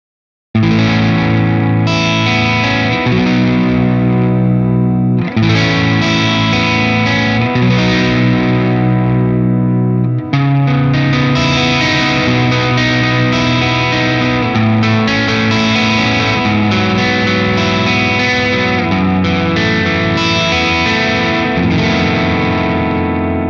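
An electric guitar played through a small practice amp, with distortion and chorus effects, strums chords and picks riffs in a steady, loud, continuous stream with brief breaks between phrases.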